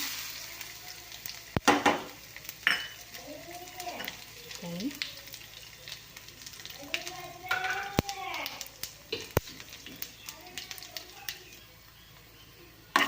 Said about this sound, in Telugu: ఆయిల్ బాగా మరిగిందండి ఇప్పుడు పోపు దినుసులన్నీ వేసేద్దాము